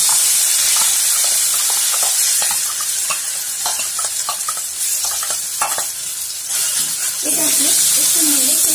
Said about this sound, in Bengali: তেলটি গরম হয়ে গেলে এর মধ্যে দিয়ে দেব পটলের ভেতরের অংশের বাটা অংশটা।